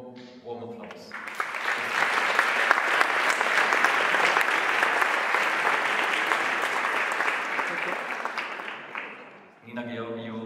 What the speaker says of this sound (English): Give them a warm, warm applause.